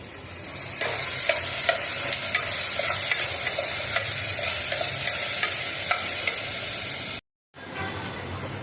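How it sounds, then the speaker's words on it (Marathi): Chili, crushed garlic paste and curry leaves are stirred in a hot pan for spicy Gujarati-style khichdi, with continuous loud sizzling and rhythmic scraping strokes, briefly cut to silence near the end. "आणि ही मिरची, लसूणचा ठेचा, कढीपत्ता सगळं टाकून मिश्रण हलवून घेते।"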